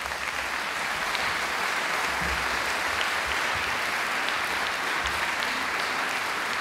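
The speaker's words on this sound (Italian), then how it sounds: "il cardinale Carlo Caffarra, qui vi chiedo un applauso." An audience at a talk by a cardinal on Humanae Vitae claps steadily. The applause is dense and even, filling the room for several seconds with no speech over it.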